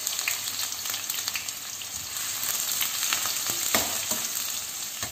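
Onions sizzle steadily in hot oil with popped mustard seeds, a dense continuous frying hiss with occasional light crackles and stirring scrapes, close and alone with no talk.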